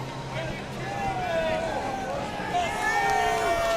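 Crowd noise at a NASCAR Cup Series race at Michigan International Speedway, a broad roar of cheering spectators mixed with fading race car engine whine, with announcer talk over it.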